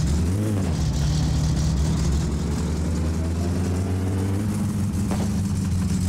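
Car engine in the driving game My Summer Car, loud and steady, rising in pitch as it revs and shifts, then holding a droning note under a brief final clunk, with no voices.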